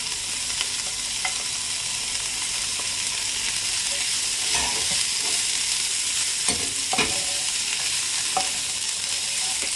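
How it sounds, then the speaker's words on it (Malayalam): Onions and mixed vegetables stirred in a frying pan, a steady broad sizzle running throughout with occasional scraping clicks of the spoon, close and moderately loud, with no talking. "ഈ ഉള്ളി അധികം ഫ്രൈ ചെയ്യണമെന്നില്ല. പിന്നെ ഇതിലേക്ക് കുറച്ച് മിക്സഡ് വെജിറ്റബിൾസ് ഇട്ടിട്ടുണ്ട്."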